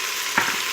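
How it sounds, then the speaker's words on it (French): Beef coated in cornstarch fries with a soft hiss in a pan as it is stirred, giving one brief scrape. "Et on enrobe bien la viande, on mélange bien"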